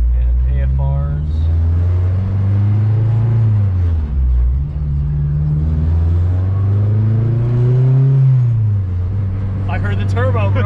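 A turbocharged 8th-generation Honda Civic Si pulls hard from inside the cabin, engine droning and rising steadily in pitch through the gears, with a faint turbo whistle near the end.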